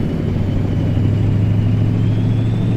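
A truck engine in American Truck Simulator idles in a steady, loud, deep drone with a constant low hum and no change in pace.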